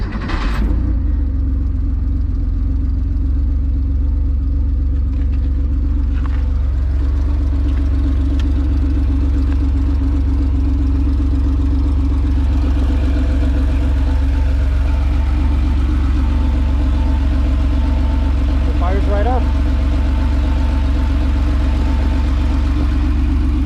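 A 1983 Porsche 911 with a non-stock exhaust idles warm in neutral, giving a loud, steady low rumble that holds evenly throughout with a slight mechanical whir and no talk.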